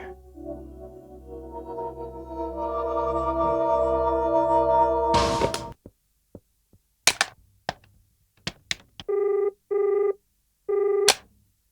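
A telephone rings in a quiet room in a Hindi crime drama, two short electronic trills repeated with pauses, following a few sharp knocks and clicks after a fading musical passage.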